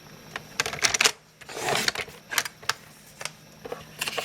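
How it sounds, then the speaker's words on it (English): A paper trimmer cuts a strip of cardstock lengthwise, giving a series of close, crisp clicks and scraping slides with brief pauses between strokes. "put it in your cutter at 1 inch and cut it in half"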